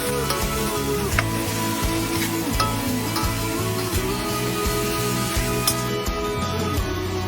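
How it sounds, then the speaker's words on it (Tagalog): Chicken sautéing in a pan for sinigang, a steady sizzle with repeated scraping and stirring strokes, close and fairly loud. A low tonal hum runs underneath throughout, and no one speaks. "haluin pa natin at igisa pa natin para talagang mawala ang kanyang lansa"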